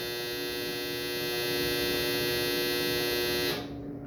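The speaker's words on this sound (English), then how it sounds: "I don't know if you all heard that long ass beep, but that's my dryer." A clothes dryer gives one long, steady electronic beep with a buzzing, humming tone. It holds for several seconds, then cuts off abruptly.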